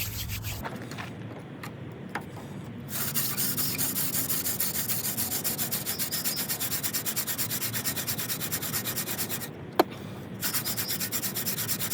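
A yucca spindle twirled on a winter creeper hearth board during a hand drill friction fire burn-in gives a steady, close, raspy rubbing that runs for several seconds, pauses briefly, then resumes.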